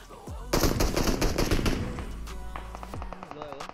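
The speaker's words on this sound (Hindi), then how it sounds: "अब देखो चारों तरफ भयंकर फायरिंग हो रही है" Heavy automatic gunfire crackles in the mobile battle royale game BGMI, a dense burst of rapid shots that starts loud and continues as thinner scattered bursts toward the end, with no talk.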